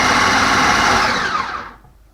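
A blender whirs loudly, blending corned beef into fishing bait, a steady high buzzing motor that holds for over a second and then winds down to silence.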